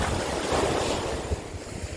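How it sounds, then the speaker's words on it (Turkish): Sea waves wash onto Kastro beach near Kıyıköy, Turkey, in a continuous rushing roar, with wind buffeting the microphone throughout. "Deniz güzel."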